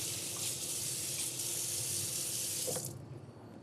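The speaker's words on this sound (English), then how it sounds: "While this is going, I'm gonna wash my hands, sticky fingers." Hands being washed under a running kitchen sink tap, a steady close rush of water that stops near the end.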